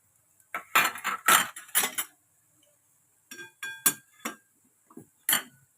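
Boiled potato being mixed into masala in a pan for a potato sandwich filling, heard as a series of close, sharp metallic spoon clinks and scrapes against the pan in two bursts, with no talking.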